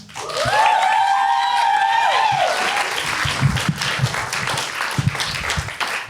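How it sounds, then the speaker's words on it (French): Audience applause breaks out for a performer, opening with a loud rising whoop or cheer over the clapping, then settling into steady, fairly close applause with a few sharper individual claps. "Je vous demande d'applaudir bien fort, s'il vous plaît, Jacob."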